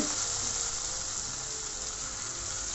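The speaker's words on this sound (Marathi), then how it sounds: "आणि ही चांगली तुपावर परतून घ्यायची आहे." Washed barnyard millet (bhagar) fries in ghee in a wok, giving a steady, soft sizzle that runs evenly throughout with no voices.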